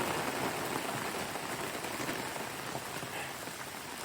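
Steady rain patters densely on a truck roof during a camping trip in Baldwin, a continuous close hiss of drops with no talking.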